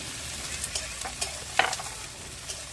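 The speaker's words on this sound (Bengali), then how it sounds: "এগুলা দিয়ে একটু বেশ সুন্দর করে নেড়ে চেড়ে ভেজে দেবো।" Garlic, five or six green chillies and chopped onion fry in a pan, a soft steady sizzle broken by light scraping taps of a stirring utensil, no talk.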